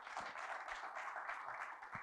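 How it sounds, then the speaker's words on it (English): An audience at a construction and engineering supplier day applauds a presenter, giving faint, steady, continuous clapping from a crowd. "Can we give him a round of applause?"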